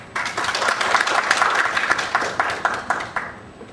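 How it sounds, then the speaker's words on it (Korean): An audience at a Korean healthcare industry lecture claps for the professor who is about to speak, a burst of many hands with crisp individual claps that swells, then fades out near the end. "이명호 교수님께 박수 한번 먼저 보내드릴까요?"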